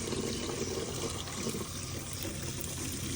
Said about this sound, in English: So right here, this is the water pump.